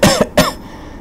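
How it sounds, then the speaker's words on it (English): Two sharp coughs in quick succession from a nearby person, followed by a faint breathy pause. "I'm having a little bit of cough."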